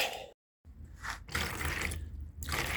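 Water runs and splashes into a bucket, nearby and moderately loud, with a brief silent break near the start before the flow resumes and keeps going.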